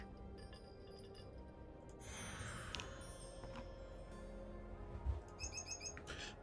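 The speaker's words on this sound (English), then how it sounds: "The magpie, the master thief among birds." A magpie calls in the steampunk hidden-object game Clockwork Tales, with short bright chirps and tinkling clinks over a soft ambient bed, faint and scattered, ending in a quick flurry of notes.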